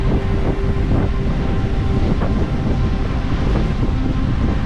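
Strong wind buffeting the microphone beside a stranded Rohingya boat on the Aceh Besar coast, a loud constant roar with rumbling gusts and surf beneath, no voices.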